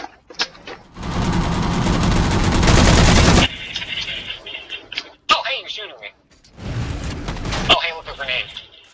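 Enemy gunfire in the Halo 4 video game, with close, loud bursts of rapid automatic shots separated by brief pauses while a player talks over the action.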